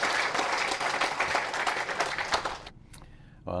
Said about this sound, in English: Would you give you a round of applause to Hans, and thank you.